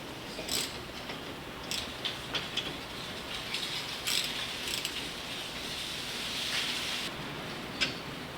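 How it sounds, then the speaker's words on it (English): Ratchet wrench with a 13 mm socket tightening the brake caliper bolts on a Mazda CX-30 during a front brake replacement, giving bursts of rapid clicking with a few sharper metallic ticks over steady background noise, close by and without talk. "Get that bottom bolt in. Tighten those in with my 13 mil."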